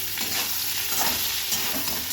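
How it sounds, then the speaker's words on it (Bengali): Boiled soybean chunks and potatoes frying together in a pan, with a continuous loud sizzle broken by the scrape and shuffle of stirring, close up and with no talk. "সয়াবিনটা গরম জলে সিদ্ধ করে নিয়েছি তো এবার দিয়ে ভালো করে সয়াবিনটা কিন্তু একসঙ্গে ভেজে নেবো"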